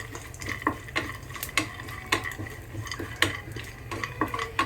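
Peanuts roasting in oil in a pan over medium heat for a sweet homemade snack mixture, stirred with repeated scraping clinks of a spoon against the pan over a low, steady frying hiss.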